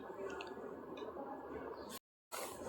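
Steamed ivy gourd being stirred and fried in a pan for a Konkani-style dish, giving soft, close squishing and sizzling sounds that run steadily, with a brief silent break near the end.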